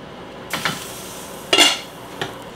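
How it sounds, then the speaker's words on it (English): Homegrown potatoes are stirred in a cooking pot of water, three scraping, clinking strokes of a utensil against the pot, near and distinct over a low steady background. "Let's just give them a quick stir."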